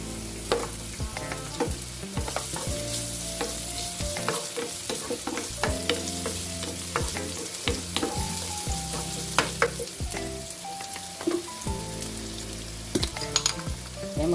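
Ginger and onion sizzle and fry in a pan for a sweet and sour fish sauce. A spatula scrapes and clanks against the pan in steady, repeated strokes over a constant hiss of hot oil, close and fairly loud.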